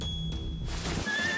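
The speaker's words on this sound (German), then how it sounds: "Was? Ist das ein Pferd?" A horse whinnies in a video game set in a digital circus, one loud, drawn-out neigh with a few hoof clops alongside, heard alone without any talk.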